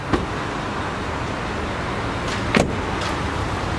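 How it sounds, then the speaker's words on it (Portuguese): A lowered car's door is unlatched and opened with a couple of sharp clicks and a thunk over a steady background hum, without talking. "deixa eu abrir a porta, o carro aqui."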